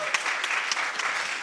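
A church congregation applauds steadily at a baptism service, a dense, even wash of clapping from many hands that holds from start to finish with no talk over it.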